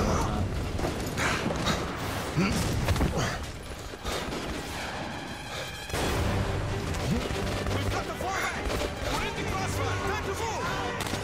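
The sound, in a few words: gunfire in the video game Metro Last Light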